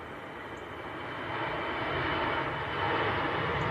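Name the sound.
jet airliner at Manchester Airport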